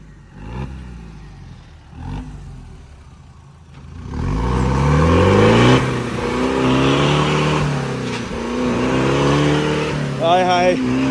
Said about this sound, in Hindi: अभी जब इसको थोड़ा सा पुश करेंगे MLD जस्ट इंगेज हो जाएगा जल्दी। और अब देखो शोएब भाई खींचेंगे